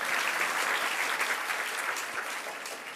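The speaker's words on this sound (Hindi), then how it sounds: "तालियां बजा ली" A seated gathering at a spiritual discourse breaks into applause, a steady wash of many hands clapping at moderate volume that continues throughout and eases slightly toward the end.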